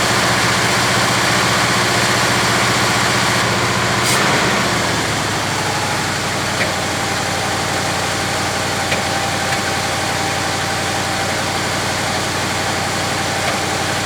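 A 1966 Chevy Biscayne big block V8 idles steadily, its exhaust note loud and close with a low rumbling pulse, a brief surge around four seconds, then a settled, even idle.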